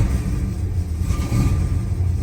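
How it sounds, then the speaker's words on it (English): A 1965 Chrysler 300L convertible with a 413 V8 and a suspected misfire, rumbling loudly and unevenly close up as the engine is revved, with no talk over it. "Listen to this thing when I rev it up"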